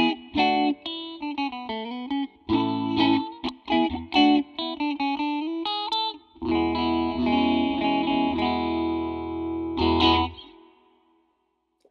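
A MoogerFooger plugin phaser effect sweeps over a synth melody, the notes swirling and shifting with a chorus-like, slightly distorted tone before fading to silence.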